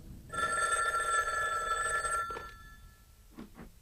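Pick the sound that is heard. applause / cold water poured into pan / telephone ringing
telephone ringing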